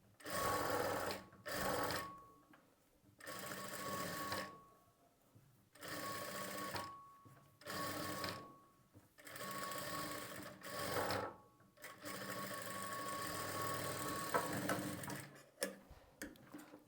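Sewing machine stitching a fabric sleeve onto a garment, running forward and in reverse to make a double stitch; close, steady whirring bursts broken by short pauses, with no talking.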